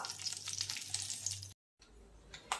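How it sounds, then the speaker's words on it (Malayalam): Dried red chillies and curry leaves dropped into hot oil with mustard seeds give a steady crackling sizzle that cuts off briefly, then resumes more softly with a few sharp pops. "പിന്നെ നമ്മൾ ഇതിലേക്ക് വറ്റൽമുളക് ഇടുന്നു."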